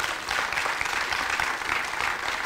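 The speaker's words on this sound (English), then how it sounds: "If you could give these fellas a hand of applause as they come to the stage." A crowd at a community event in Baltimore gives a dense, steady round of applause, a continuous wash of many hands clapping at moderate volume with no voices on top.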